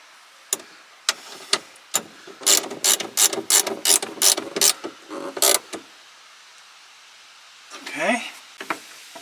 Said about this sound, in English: let's tighten that up with a ratchet